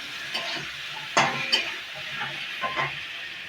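Ground spice paste frying in a pan, a soft continuous sizzle broken by a few sharper stirring scrapes and spatula knocks, close and unaccompanied by speech.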